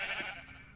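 A sheep in the video game Minecraft gives one short, wavering bleat, moderately close, over a light background hum, with no speech.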